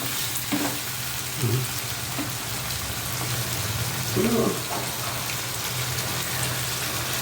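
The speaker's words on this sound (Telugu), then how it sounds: "ఇంకా దీనికి కొంచెం ఫ్రై అయినాక అప్పుడు వాటర్ వేస్తాను" Mixed vegetables for vangi bath sizzle steadily in a pan with garam masala, a continuous frying hiss with a few stirring scrapes and clinks, close and moderately loud with no talking.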